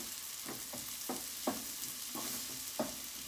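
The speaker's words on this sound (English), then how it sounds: "Let the onions cook a little." Onions cook in a pan with a steady, faint sizzle, while soft stirring scrapes recur every half second or so up close.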